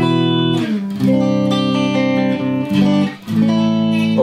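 Electric Telecaster guitar played through a clean amp tone, a few sustained chords strummed close and clear, with short pauses between them and no talking.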